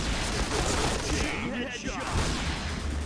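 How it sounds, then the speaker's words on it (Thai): Rapid bursts of video game gunfire crackle continuously at a steady, loud level, with dense overlapping shots and no clear pauses. "เสียงปืนระห่ำเลยนะเพื่อนยิงอยู่ตรงไหนกันไม่รู้"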